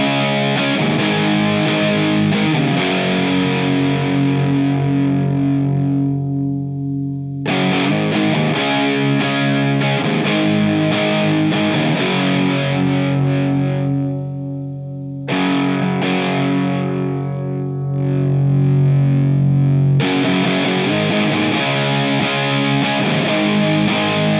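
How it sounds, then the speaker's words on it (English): An electric guitar on the bridge pickup runs through a dirt pedal with its gain turned up, ringing out thick, saturated chords in long sustained sections with brief pauses between them, loud and unaccompanied by talk. "This is a dirt pedal, and as you'd expect from a dirt pedal,"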